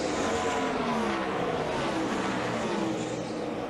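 NASCAR race cars at speed in the 2006 Dollar General 300 make a loud, continuous engine roar that swells and fades slightly as the pack runs, with no talk over it.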